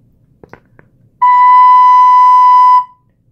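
A soprano recorder sounds a single steady B, fingered with the thumb hole and first hole, held for about a second and a half. It is clear and pure and stands alone after a few faint taps.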